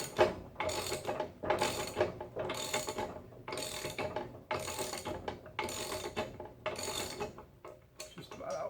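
A ratchet backs a stud out of a Vortec cylinder head, clicking in about eight rapid bursts with short pauses between them, close and dry with no talking.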